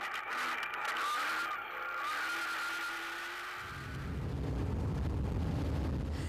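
Toyota Hilux rally cars race along a special stage of the 2013 Nkomazi 400 rally, their engines a steady roar that deepens into a loud, close, low rumble partway through as the vehicles rush past.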